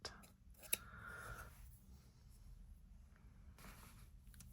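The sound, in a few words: scissors cutting a length of embroidery thread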